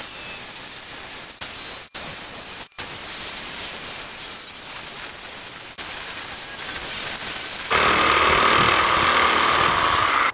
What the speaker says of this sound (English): I'm gonna cut this with a jigsaw